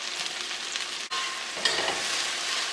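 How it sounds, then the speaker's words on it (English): Okra charring in a wide pan: a close, steady hiss of sizzling, briefly broken by a stir, then swelling back as the pieces fry. "we're going to char it. And by charring it and giving it a little bit of color"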